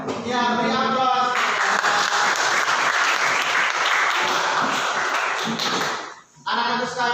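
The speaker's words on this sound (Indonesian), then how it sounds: "beri aplaus" Classroom applause from a group of children, a dense burst of clapping lasting several seconds that fades briefly near the end, with a teacher's voice before and after.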